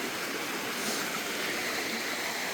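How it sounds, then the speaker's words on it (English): A small, fast-running creek in Pennsylvania glacial till country, heard as a steady, even rush of water close by with no pauses. "Not a bad little creek."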